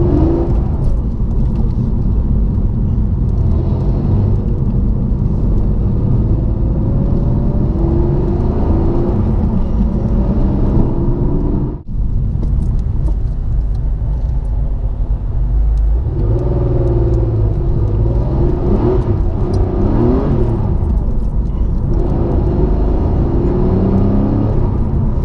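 A Porsche 964 with a converted gearbox drives on wet roads, its engine droning steadily with a low rumble, surging and revving as the wheels spin, close and continuous with a brief drop midway.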